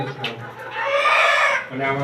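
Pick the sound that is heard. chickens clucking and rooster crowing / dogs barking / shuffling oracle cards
chickens clucking and rooster crowing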